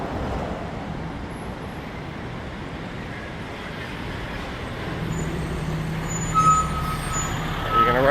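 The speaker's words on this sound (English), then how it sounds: "Run me over, beer store truck." Delivery truck for a beer store passing on a downtown Toronto street in the early morning, a steady low engine rumble with traffic noise and a couple of short air-brake hisses near the end.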